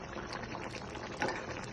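A potato and bamboo shoot curry bubbles in a pot, giving a short, close run of soft liquid bubbling and popping at a steady level, with a slightly louder burble near the end. No one talks.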